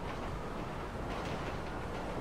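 Train passing in a police game, a loud, dense, continuous rumble and rattle filling the whole moment without talk.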